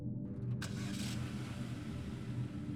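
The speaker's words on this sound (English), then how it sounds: "I tried starting the car again." A car engine in a snowbound, isolated spot after a winter storm turns over and catches, then settles into a steady, close, low idling rumble.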